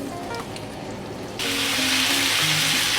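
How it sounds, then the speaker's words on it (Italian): Beef cheeks hit a very hot pot of oil, and a sudden loud sizzle bursts in about halfway through over a quieter kitchen background, then holds steady. "Scottiamo le guance."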